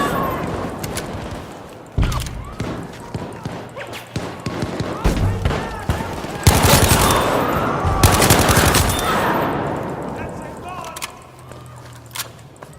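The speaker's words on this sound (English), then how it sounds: "just compare the gun feeling in the BF5" Gunfire in Battlefield 5 comes as bursts of automatic fire and sharp single shots, loud and close. Some volleys are sustained and others break into short rattles, and someone talks over parts of it.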